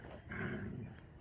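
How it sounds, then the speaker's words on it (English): A big dog growls low and rumbling at close range, a single sustained growl swelling in the middle and trailing off, heard on a farm during lambing season. "She sees a dog."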